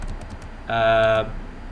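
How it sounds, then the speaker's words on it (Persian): A computer keyboard is typed on in a brief burst of clicks while router configuration text is entered, close and moderately loud with a steady tone underneath. "من بنر نشته میکنم، میرم اول لوگوی کمپانی خود تایپ میکنم"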